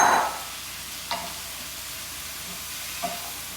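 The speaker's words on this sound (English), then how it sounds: "add the shrimp back in" Shrimp and vegetables sizzle in a nonstick pan during a Korean-style stir-fry: a soft, steady frying hiss, fairly quiet, with a couple of faint stirring clicks and no talking.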